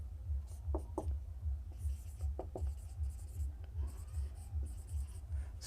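Scratchy pen strokes on a notebook or board as a word is written out, soft and rhythmic over a steady low hum, faint and close.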